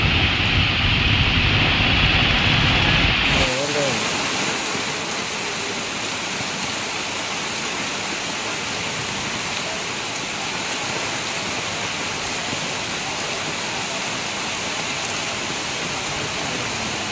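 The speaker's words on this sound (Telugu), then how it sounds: "నాన్ స్టాప్ గా వర్షం కురుస్తూనే ఉండడంతో" Heavy nonstop rain pours down in Hyderabad during a cloudburst-like downpour: a dense, unbroken hiss of rainfall, louder and closer for the first few seconds, then settling into a steady roar with no voices.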